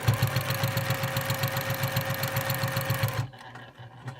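A sewing machine stitches in the ditch through a pinned quilt, running at a steady fast rhythmic chatter for about three seconds, then stopping abruptly, leaving faint quiet handling sounds.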